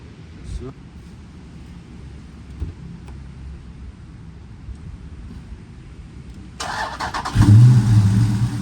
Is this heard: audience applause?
no